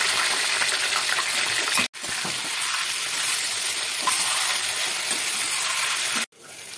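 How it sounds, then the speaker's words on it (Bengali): Chicken pieces frying lightly in hot oil in a kadai give a loud, steady, dense sizzle with no talk, broken by two brief near-silent gaps. "এখন এটাকে আমি কড়াইতে ভেজে নেব"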